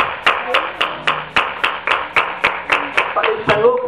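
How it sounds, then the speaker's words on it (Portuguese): A church congregation claps in unison during an evangelical service, about fourteen sharp, evenly spaced hand claps in a steady rhythm, with a voice speaking over the claps. "Dá uma salva de palmas para Ele nessa noite"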